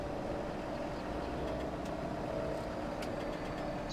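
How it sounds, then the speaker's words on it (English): A steady, fairly loud engine drone from a disc 180 tillage implement in Farming Simulator 17, holding an even idling hum for the whole stretch with a few faint clicks on top and no voices. "Man, this thing's got like an engine and everything."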